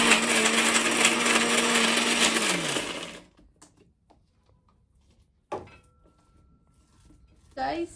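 A kitchen mixer grinder whirs loudly for about three seconds while grinding chilli powder, pepper, coriander seeds and onion into fish curry masala, then winds down and stops, followed by a few sparse clinks and knocks.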